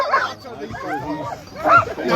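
Sled dogs at the start line of the Copper Basin 300 race in Alaska, heard close in a burst of excited yips and whimpering barks, mixed with people talking.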